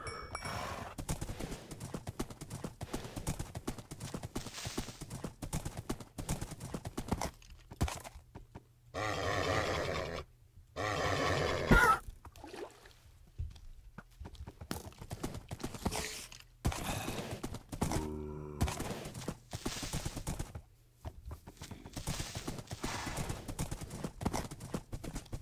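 Horse hooves clip-clop in a survival video game, a repeated hoof rhythm coming in bursts among other game noises, with grunts and a neigh now and then.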